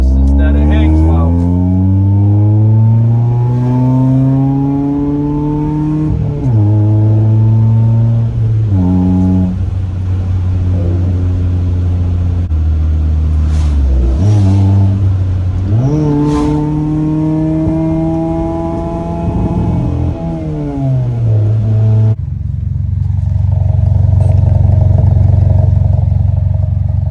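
A 1996 Honda Accord with an aftermarket spec D exhaust revs repeatedly, climbing and dropping in several loud, close sweeps before settling into a deep idle rumble.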